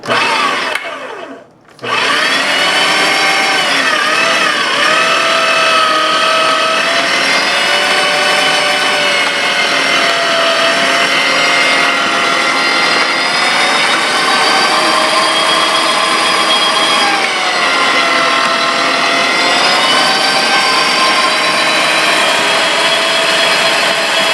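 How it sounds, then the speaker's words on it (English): A meat grinder runs continuously, grinding fat trimmed from chuck roast, its loud, steady motor whine holding after a brief pause near the start. "we're going to grind the fat and see what it looks like"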